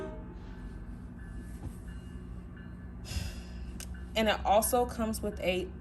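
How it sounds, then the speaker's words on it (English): Low rumble of a passing train, steady through the clip, with a voice speaking over it near the end. "Sorry about the train noise."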